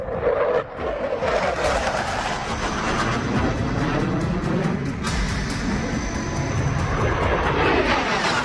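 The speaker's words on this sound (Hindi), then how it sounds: "हर थोड़ी थोड़ी देर पर कभी F-16 तो कभी JF-17 फाइटर जेट्स की गरज" F-16 and JF-17 fighter jets roar overhead with a loud, continuous broadband rumble that holds steady and dense throughout, with no voices.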